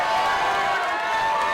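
Arena crowd in San Francisco cheering for women wrestlers after a championship match, a dense steady roar of cheers and applause filling the whole clip.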